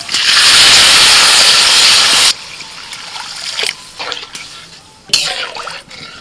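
Water poured into a pot of rice frying in oil for pulao, a loud steady rushing hiss for a couple of seconds, then quieter sizzling with a few sharp bursts as it settles.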